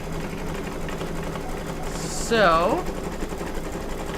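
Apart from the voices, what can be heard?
embroidery machine stitching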